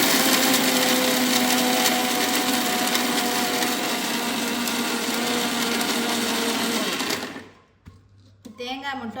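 A mixer grinder grinds coconut for chutney, a loud steady whirring roar lasting about seven seconds before cutting off abruptly, followed by faint clatter and a brief voice.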